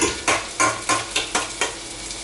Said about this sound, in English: If you're using an electric grill like this, you got to keep stirring shit too.